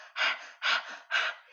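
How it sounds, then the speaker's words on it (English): Bellows breath from a yoga breathing exercise: three forceful, rapid bursts of breath through the nose, each about half a second apart, loud and close with no talking. "forceful burst of an inhalation and forceful burst of an exhalation. It's more of the bellows breath."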